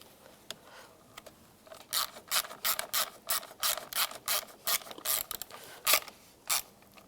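Ratchet wrench snugging down bolts on a power distribution fuse block in a 1999-2005 Volkswagen Jetta: bursts of quick clicking pawl strokes in an uneven rhythm, close and fairly crisp, with a few isolated clicks before the main run.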